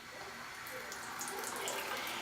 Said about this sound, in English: So I have the water on now